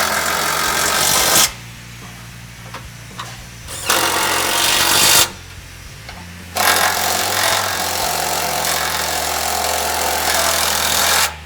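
Power tool driving home skid plate bolts on a Lexus, in three loud sustained bursts with brief quiet gaps between, the last and longest run lasting several seconds.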